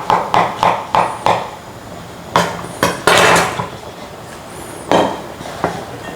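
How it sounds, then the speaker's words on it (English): Mushrooms drop into a bowl in a series of close, sharp knocks and clinks, some quick bursts followed by pauses, with no talk. "all we're doing is putting those mushrooms in a bowl"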